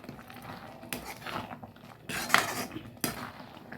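A spoon scrapes and clinks against a pan while stirring ground paste into squid gravy, with three or four sharp metallic knocks spaced over a few seconds against a low background. Nobody speaks.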